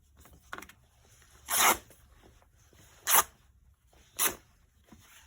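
Paper torn into strips for a folio journal, three short ripping bursts spaced about a second apart, close and crisp against a quiet background with faint handling noise.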